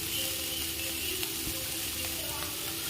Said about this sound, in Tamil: கலந்து வச்சுருக்கதை போட்டு வதக்கி வச்சுக்கோங்க.